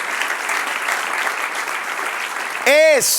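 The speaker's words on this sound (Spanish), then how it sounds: "Dale un aplauso al Señor." A church congregation claps together during a Spanish-language sermon, a broad steady patter of hands lasting several seconds, then a short rising tone cuts in at the end.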